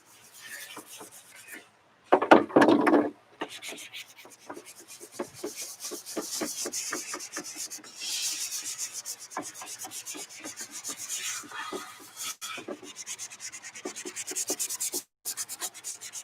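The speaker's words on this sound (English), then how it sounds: "Just going over it by hand with a 220, feathering any edges," Polyflex is hand sanded with 220 grit sandpaper to feather edges and remove machine marks, producing quick, close, rhythmic rasping strokes that run steadily with one brief pause, and no talking.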